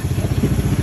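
An ojek motorcycle taxi engine putters nearby in a quick, even rhythm of low pulses, heard alone for under a second.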